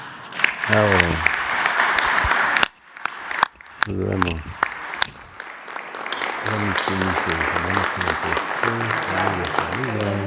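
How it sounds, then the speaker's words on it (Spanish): Audience applause at a public event in Mexico City, a sustained wash of clapping that stops briefly and then resumes, with a voice talking over much of it. "un aplauso para ustedes"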